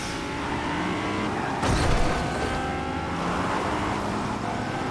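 Game truck driven in Fortnite: a steady, loud engine drone runs throughout, with a brief surge of rev or impact noise about a third of the way in.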